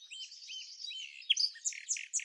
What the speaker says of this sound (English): Say hello to the blue-gray gnatcatcher